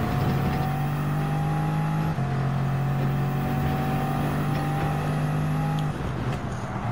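Simulated race car engine in Gran Turismo 7 during a Circuit Experience run, a loud sustained high-pitched whine holding steady under throttle, briefly dipping at a gear shift and again near the end.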